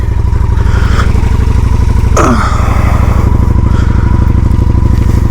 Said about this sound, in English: Just thought we'd go out for a bit of a rip on the bike today.